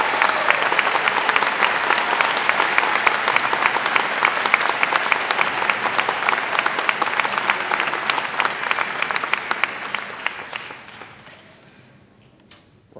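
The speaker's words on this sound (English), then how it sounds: "Please, a round of applause for all of them." Commencement audience at an Alfred University graduation ceremony applauds the graduates, steady dense clapping from a large crowd that holds for about ten seconds and then tapers away to near silence.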